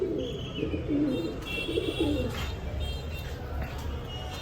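Low, throaty coos of fancy pigeons, including Lahori and Bombai breeds, warble in the foreground, with faint chirps and a steady background hum, no talking.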